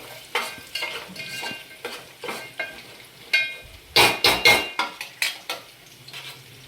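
Curry leaves, mint and coriander frying in a pan for upma while a utensil stirs them, giving a string of sharp scraping and clinking strokes, clustered rapidly in the middle, over a soft sizzle.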